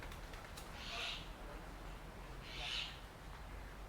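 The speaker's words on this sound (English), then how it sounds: "Oh, they got birds in here." A bird in Chiang Mai, Thailand, gives two soft, separate hooting calls about two seconds apart, faint against steady background noise.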